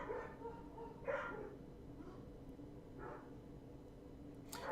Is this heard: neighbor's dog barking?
yes